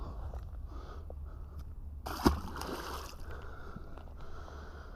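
A single short splash as a bass is released back into clear water during spring fishing, heard over steady low outdoor background noise.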